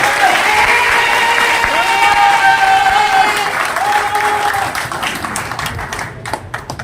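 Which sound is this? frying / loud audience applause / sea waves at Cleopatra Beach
loud audience applause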